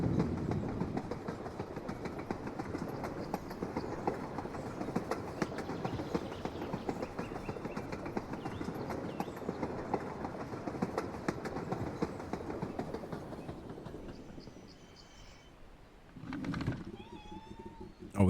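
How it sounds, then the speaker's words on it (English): Train rolling past in the farming game Stardew Valley, a steady rumbling clatter of wheels and cars sustained for about fourteen seconds, then fading out as brief game chimes follow. "I like the train sounds."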